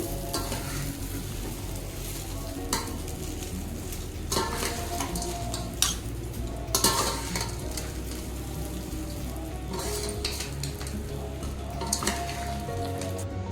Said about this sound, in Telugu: ఇది కొంచెం పోపు వేసిన తర్వాత ఇలా కలిపేస్తాము.